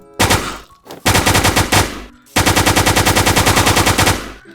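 Rapid automatic gunfire from a gun in Minecraft on a zombie-shooter server, loud and close, in three bursts separated by short gaps, with the last burst the longest and evenly rhythmic.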